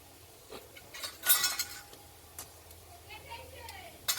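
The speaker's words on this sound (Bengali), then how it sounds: "যে জলটা ফুটছিল আমি ঢাকা স্ট্যান্ড দিয়ে দিচ্ছি। স্ট্যান্ডটা আমি উল্টে দিচ্ছি।" A metal idli stand is flipped over and set into a pot of boiling water, giving a few light metallic clinks and knocks spread over a few seconds against quiet kitchen background.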